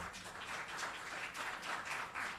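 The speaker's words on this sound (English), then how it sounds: "Can we do a round of applause to our sponsors?" An event audience at a summit morning session applauds sponsors, a steady wash of many hands clapping at a distance that keeps going for several seconds with no voices.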